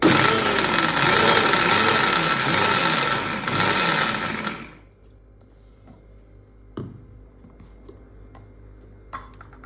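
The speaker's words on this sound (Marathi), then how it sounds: "आता शेंगदाणे घातल्याच्या नंतर आपण मिक्सर थोडंसं फिरवायचे म्हणजे बंद चालू करायचं आहे" A kitchen mixer grinder whirs loudly for about four and a half seconds while grinding peanuts into green tomato chutney, then cuts off, leaving quiet room tone with a couple of faint knocks.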